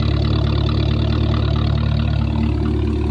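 A 2012 Hyundai Genesis R-Spec 5.0 V8 fitted with an 85mm throttle body idles with a steady, deep low rumble, close and loud and unchanging over a few seconds.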